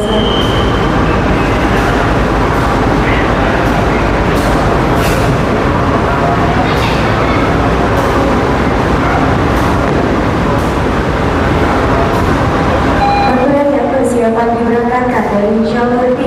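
Sancaka Utara passenger train rolling into track 1 at a Surabaya station, a loud continuous rumble of wheels and carriages with squealing brakes and a horn-like tone near the end, station announcements and voices faintly beneath.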